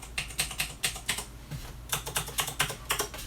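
Typing on the translucent keys of a C64x breadbin-style RGB keyboard, a steady run of close, crisp plastic key clacks in quick irregular bursts with a short pause midway, no voices.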